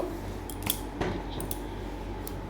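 Tomatoes and cashews being stirred in a frying pan, quiet sizzling under a few sharp scraping and clinking strokes of a spatula against the pan.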